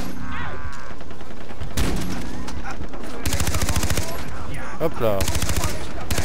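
An M1 Garand rifle fires in bursts of sharp shots inside the game Far Cry 3, loud and close, with a player talking briefly between volleys.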